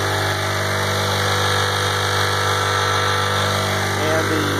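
Honda Civic R18 1.8-liter aircraft conversion engine with T3 turbo and a Viking Aircraft PSRU gearbox, running at a steady, smooth drone on a test setup, loud and continuous with no talk over it.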